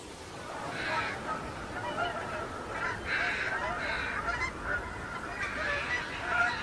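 Geese honk repeatedly by the Mississippi River in fall, a steady chorus of overlapping calls at moderate distance under a continuous murmur of outdoor background.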